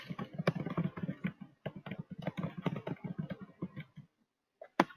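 Quick bursts of computer keyboard typing as a name is entered into a form field, crisp close clicks in uneven runs with a short pause near the end before a final keystroke.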